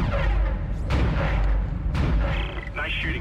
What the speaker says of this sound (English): Nice shooting, Isaac.